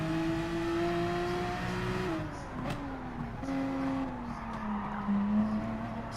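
Racing car in the Gran Turismo Sport video game at Barcelona, accelerating out of a corner: a droning engine note that dips, then climbs steadily through the revs with a gear change, loud and close, no talking.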